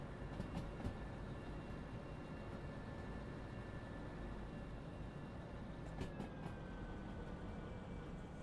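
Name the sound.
American locomotive in the video game Derail Valley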